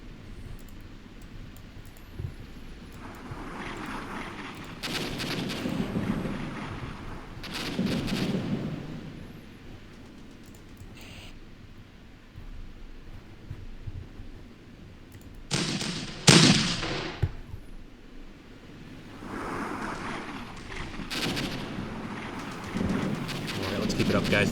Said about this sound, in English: Artillery finally struck.